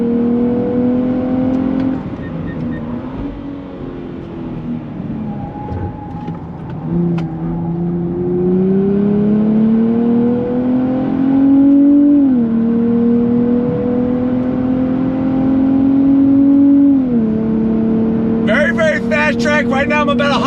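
A 2023 Nissan Z Performance engine revs hard and shifts through gears on a race track, its pitch climbing and dropping repeatedly, loud and close throughout.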